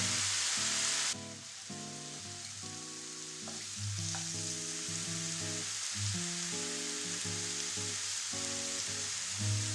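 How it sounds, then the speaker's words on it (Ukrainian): Leek and carrot fry and stew in a pan, giving a steady, close sizzle with stirring scrapes throughout. A constant low tonal hum runs underneath, and no one speaks. "Продовжую тушкувати. Цибуля і морква протушкувалися."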